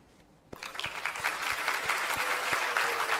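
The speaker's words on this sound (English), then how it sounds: "So please give yourself a round of applause for a job well done." A crowd bursts into applause at a grand finals presentation event after a brief quiet moment, steady clapping building and sustained throughout.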